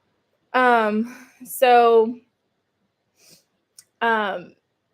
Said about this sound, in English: that's why sometimes he meows when he has to poop too